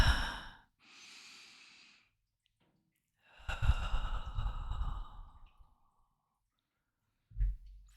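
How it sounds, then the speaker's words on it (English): Slow, deep breaths for a breathing exercise: a long airy exhale, a softer breath, a pause, then a full drawn-out sigh, close to the mic with silence between. "do the breath work. Start breathing."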